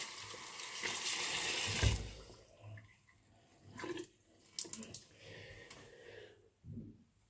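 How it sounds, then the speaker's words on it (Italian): Hot water runs from a bathroom tap early in the morning before a shave, a close rushing splash that pours steadily at first and then breaks into short intermittent gushes and drips. "Facciamo scorrere l'acqua calda, mattina presto."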